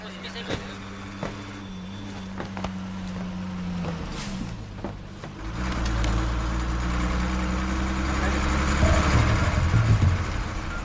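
A bus engine idles at a stand before an overnight run to Vizag, a steady low rumble with harmonic hum that swells louder in the second half, while people nearby talk and call out.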